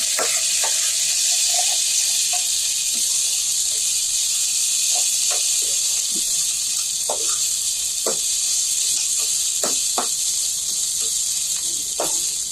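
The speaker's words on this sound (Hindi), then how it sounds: "इसको भी अच्छे से फ्राई करेंगे प्याज के साथ।" Ginger-garlic paste frying with soft onions in a pan, a continuous close hiss of sizzling oil broken by scattered sharp pops and the odd scrape of stirring.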